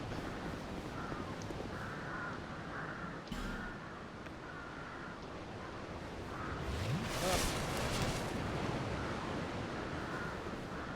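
A large bird calls in a fantasy video game, with cawing cries over a wash of wind and surf-like ambience, moderately distant and mixed with background noise.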